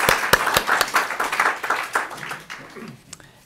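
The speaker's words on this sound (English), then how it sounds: "Let's give them a round of applause." An audience at a design talk on connected-city mobility gives a round of applause, with several distinct sharp claps spread through a scattered, thinning clapping that fades out, while a voice speaks over it.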